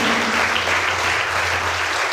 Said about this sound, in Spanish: Dale un aplauso al Hijo Santo